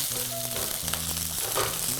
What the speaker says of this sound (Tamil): அதை இதில் போட்டு ஜஸ்ட் ஃப்ரை மிதமான தீயில நல்லா ஃப்ரை பண்ணிக்கோங்க